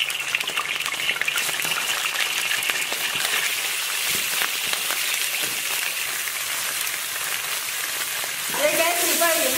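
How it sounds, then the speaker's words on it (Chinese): Chicken legs sizzle in hot oil in a pan, a steady dense crackle that runs throughout, with a sharper spatter rising near the end. "锅里倒点油，"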